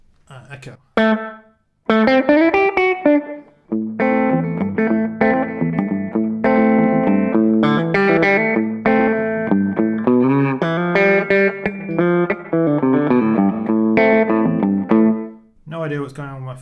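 Electric guitar through a slapback echo delay set to a very quick single repeat, a long stretch of loud, lightly driven notes and chord stabs played alone with short gaps.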